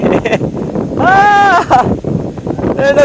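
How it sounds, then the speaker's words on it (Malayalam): Strong wind where the sea meets a river buffets the microphone in a continuous low rumble, while a voice with drawn-out tonal calls rises over it in bursts. "അയ്യോ നല്ല കാറ്റ്"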